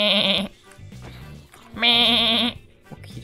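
A man imitating a sheep bleat with his voice in the Minecraft video game, two loud, nasal, quavering bleats separated by a short pause.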